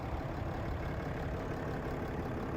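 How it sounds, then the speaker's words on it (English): A 2017 Ram 2500 Laramie Crew Cab, a 3/4-ton pickup, idling with a steady low rumble that stays constant and fairly quiet throughout, with no talking. "And even though the engine is running, it's not super loud."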